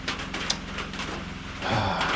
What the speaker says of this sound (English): You can hear the rain banging on the tin roof.